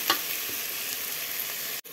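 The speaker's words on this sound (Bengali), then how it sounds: "মশলা কষানো হয়ে গেছে" Ground spices fry and get stirred in hot oil with fried onion and garlic for a chicken curry, a steady close sizzle with a few scraping strokes before a sudden brief cut near the end.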